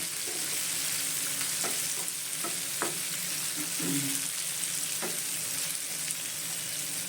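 Curry leaves sizzle in hot oil while lemon rice (chitranna) is being cooked: a steady close frying hiss runs throughout, broken by a few soft stirring scrapes and clinks, with no talking.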